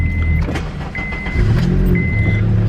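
A Honda Accord running with its catalytic converter stolen, so the exhaust is effectively a straight pipe; a steady, fairly soft engine drone heard up close, with no talking.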